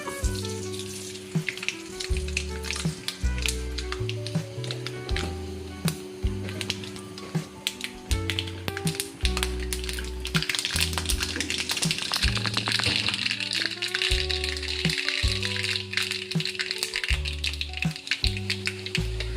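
Mustard seeds crackle and pop in hot coconut oil with scattered sharp snaps over a continuous sizzle, set under loud background music with a steady bass line.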